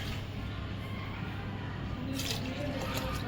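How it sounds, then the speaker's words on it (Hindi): A glass of water poured into a pot of cooking mutton dal with bottle gourd, a steady splashing pour that shifts to a brighter gurgling finish, close and continuous. "मैं एक और गिलास पानी डालूँगी"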